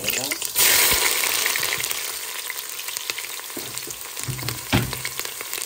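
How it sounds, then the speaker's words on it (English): Tomatoes hit hot oil with a loud initial sizzle that settles into a steady frying crackle, punctuated by occasional stirring knocks, heard up close. "I put some oil and then you're gonna fry in our tomatoes"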